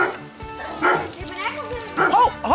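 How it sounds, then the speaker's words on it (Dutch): Puppies yap and whimper in short, high yips that grow busier toward the end, mixed with a person talking nearby. "Oh, puppies."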